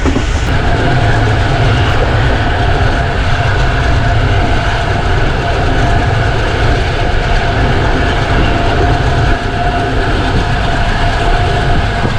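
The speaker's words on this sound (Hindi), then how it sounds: "कोटठा रेलवे स्टेशन से 105 किलोमीटर की स्पीड पर पास थ्रू हो रही है ट्रेन।" The Zakaria Express races through Kotha railway station at about 105 km/h, a loud, constant roar of rushing wheels and rattling carriages with clickety-clack close by, unbroken for the whole stretch.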